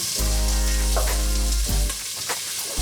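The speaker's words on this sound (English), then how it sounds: "So just stir it around from time to time." Vegetables for a Moroccan tagine fry in oil over gentle heat and are stirred from time to time, giving a loud, steady sizzle over a low hum with a few soft scraping pulses. No one speaks.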